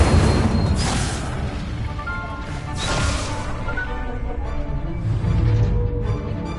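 Spell casting in the video game Hogwarts Legacy makes loud crashing bursts and booming magical impacts over a dense rumbling bed, with several swells across the passage.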